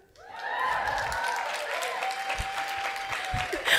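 A live theater audience breaks into applause at a comedy podcast taping, steady clapping swelling and holding for a few seconds with a few whoops and scattered voices inside it.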